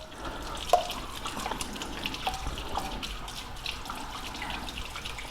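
Tap water runs gently over freshly picked elderflowers to soak them, a steady, soft splashing stream with faint drips throughout, close by and with no voices.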